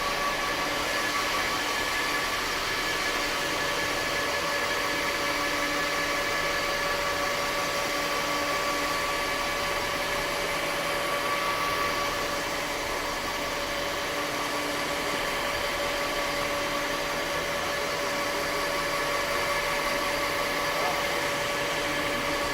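A counter-rotating floor machine runs in a large industrial space alongside a much louder dust collector, giving a steady, close, even roar with faint tonal hums throughout and no talking.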